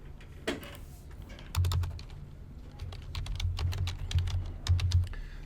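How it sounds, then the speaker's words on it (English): Close typing on a computer keyboard, a brisk irregular run of clicks with several heavier key strikes like the enter key, no talk. "let me hit enter a few times just so I can get some blank lines in here."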